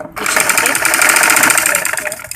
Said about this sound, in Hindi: इसको इस तरह से फोल्ड करके यहाँ कॉर्नर पे सिलाई लगा देंगे